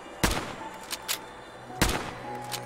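Gunfire from a weapon in Fallout 4 with a realism mod firing loose rounds one at a time: two loud, sharp single shots about a second and a half apart, with fainter clicks and mechanical sounds between them and no voice.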